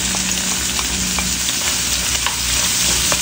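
Garlic cloves and onion sautéing in a pan, a steady dense sizzle of frying with faint stirring scrapes throughout, no talking.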